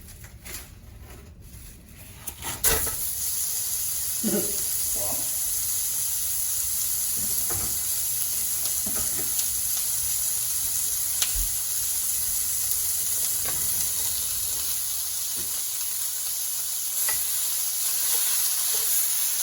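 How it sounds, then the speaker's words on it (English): Ground beef for a low carb bacon cheeseburger casserole sizzles steadily in a pan, a constant bright hiss broken by occasional scrapes and knocks of stirring, with no talking. "And then we'll go ahead and throw in our hamburger."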